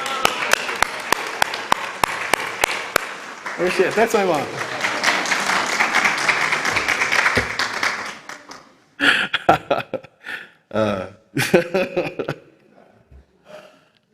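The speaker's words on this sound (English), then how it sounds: "could we all give my mom a round of applause and make her stand up?" Audience applause for a speaker's mother at a talk on environmental activism: sharp separate claps at first, swelling into a full round of clapping, then fading into bursts of talk and laughter.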